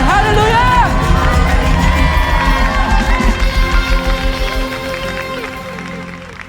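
A congregation at a special anniversary worship service of a prayer fellowship cheers and shouts for joy, a loud, dense crowd roar with whoops that gradually fades toward the end.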